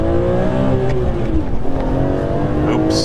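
An OG BMW E46 M3 pulls hard in first gear, its engine note rising loud and close from inside the cabin, with a brief tonal shift partway through as revs climb.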